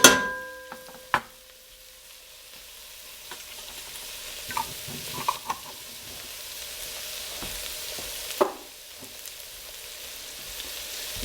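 Ingredients for boeuf bourguignon frying in a pan, giving a steady close sizzle with a few sharp knocks and occasional stirring scrapes, no voices.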